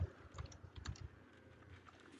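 Quick, light keystrokes tap on a computer keyboard in a short cluster that trails off into softer clicks, close and quiet.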